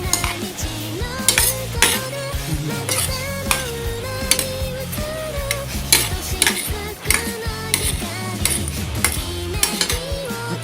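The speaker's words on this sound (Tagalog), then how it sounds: "Haluin natin." A utensil stirring sautéed chicken breast with carrots and Baguio beans in a pan, steady rhythmic scraping and clinking against the metal over a soft sizzle, with music playing underneath.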